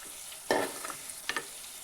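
Sugar stirred into Gujarati sambharo, a cabbage relish, in a pan makes two quiet bursts of scraping, each with a small follow-up tap, over a low, soft sizzle, with no speech.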